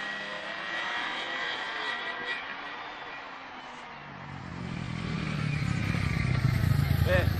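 Motorcycle engines idle and rumble in a tunnel, the low drone swelling louder toward the end as the engine revs up, with voices talking faintly over it.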